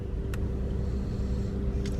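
Steady low rumble of idling cars stuck in stalled traffic, heard from inside a vehicle, with a constant engine drone and no clear acceleration.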